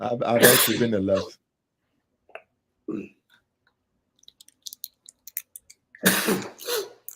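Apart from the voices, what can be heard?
sneeze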